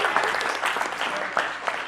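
Audience hand-clap applause at a livestreamed gathering, a steady wash of many clapping hands lasting throughout, moderately close, with a few voices faintly mixed in.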